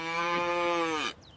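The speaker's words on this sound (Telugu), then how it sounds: "దూడలు ఇంట్లో అరుస్తున్నాయి." Calves mooing at home, a single long, loud bellow with a rich harmonic tone that holds steady for over a second and then cuts off abruptly, leaving quiet background.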